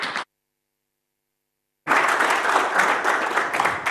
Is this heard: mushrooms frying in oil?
no